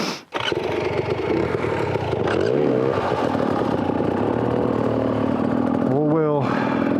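A Beta 300 RR two-stroke dirt bike engine runs loud and close throughout, with revving rises and falls as the bike is ridden, and a voice speaks over it.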